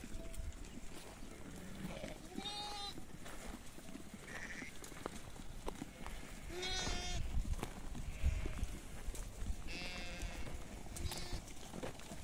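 Sheep and lambs in a farm pen, one ewe whose lamb was just taken away, bleat several times at close range, with the calls scattered over about twelve seconds above a steady rustling barnyard background.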